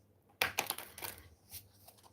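Oracle cards being shuffled by hand in a quiet room: one crisp riffling burst followed by a few softer papery flicks, close and faint, with no talking.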